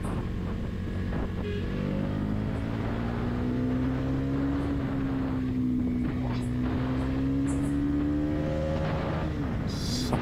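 Bajaj Pulsar NS 400 Z motorcycle pulls hard on the throttle along a road, a steady engine drone climbing in pitch with wind noise, heard from the rider's position at moderate level.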